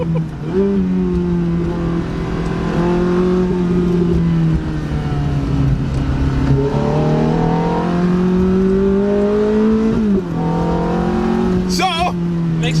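A 2005 Ferrari F430 Spider with its mid-engine V8 revving and pulling hard in repeated rising sweeps, loud and close, with a brief lift between pulls and excited voices talking over the engine.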